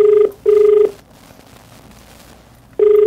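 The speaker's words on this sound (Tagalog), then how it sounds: "Pinakikita po namin yung telepono po yan, tinatawagan po natin." Telephone ringback tone on an outgoing call, loud and close: steady beeping bursts with a long gap before the next ring begins, no speech.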